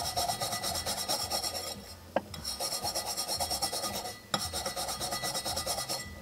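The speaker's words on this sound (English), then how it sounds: "Use a stiff bristle brush." A stiff bristle brush rubs a stencil design onto glass with fast, rhythmic rasping strokes, close and steady, pausing twice briefly with small taps between bursts.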